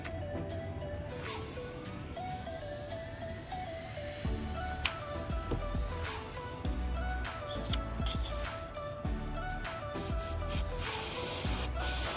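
Gunmetal lacquer spray paint hisses from an aerosol can onto a plastic 1/60 RX-178 Gundam MK2 model kit, a steady close spray running through with short pauses and brief louder bursts, no talking.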